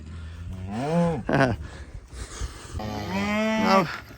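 Cattle on a farm, a cow and calf, mooing in two long, loud calls close by, separated by a brief pause, with no talk.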